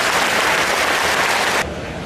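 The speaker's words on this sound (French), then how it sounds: "Vous pouvez les applaudir" A crowd applauds at the Bessan festival in a loud, dense, steady wash of clapping that suddenly drops to a quieter level near the end.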